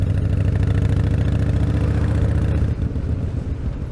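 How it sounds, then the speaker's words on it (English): A big tractor's diesel engine rumbles loud and close with a heavy low chugging throb, the tone shifting slightly as it passes by. "Oh crap, there's a big tractor coming."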